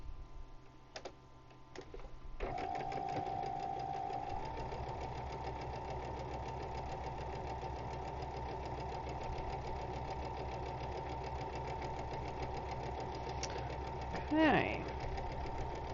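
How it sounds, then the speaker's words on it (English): A sewing machine stitches a row with a steady, fast mechanical whir and ticking that runs for over ten seconds, preceded by a short spoken word and faint room sounds. "Just sewing up the first row here, which is really cool."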